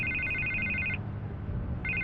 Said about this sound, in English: I can't get the phone to stop ringing.